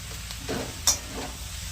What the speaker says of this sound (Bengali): আর একটু কষিয়ে নেবো সবজিগুলো।